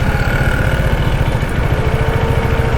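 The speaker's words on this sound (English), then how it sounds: "The radiator fan has already kicked in, and it's very loud" A second-generation KTM Duke 390 motorcycle engine idles steadily with a rapid, even putter, while its radiator fan whirs loudly and constantly underneath.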